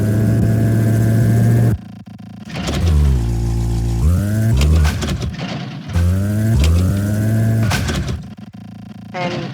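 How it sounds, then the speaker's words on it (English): Car engine idling in a Unity driving game, a steady low rumble that drops out briefly and returns in short bursts that rise and fall like light revs, near and fairly loud, with no talking. "the engine is idling"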